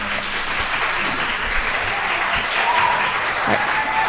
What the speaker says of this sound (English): Let's hold the applause.